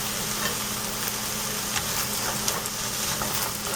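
Tuna fish masala sizzles in a pan as it is tossed and stirred, a steady close frying hiss with occasional scraping clicks and no voices.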